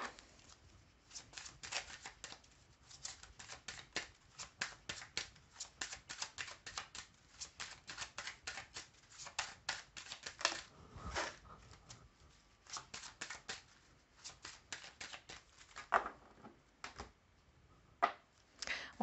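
Tarot cards for a 13-card spread are shuffled in quick, crisp bursts of riffling and flicking, repeated many times, close and fairly quiet.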